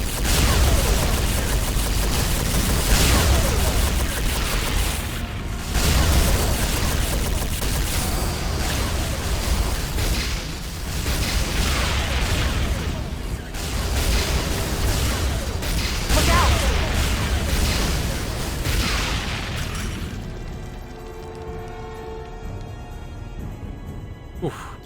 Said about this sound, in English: Weapon turrets!